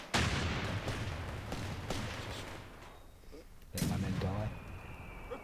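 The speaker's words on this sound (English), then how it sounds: "they've been gunning away all the cannons." Cannon and artillery fire in the video game Company of Heroes 3, two loud booming blasts a few seconds apart, each with a rumbling decay and scattered gunfire between them.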